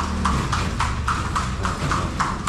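Steady, evenly spaced hoofbeats ring out as a horse trots along Calle Crisologo in Vigan, Ilocos Sur, Philippines, close and clear over a low, continuous street rumble.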